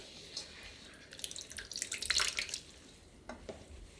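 Rehydrated dried radish strips drain in a strainer, giving a soft trickling and dripping of water that swells and fades, close and fairly quiet.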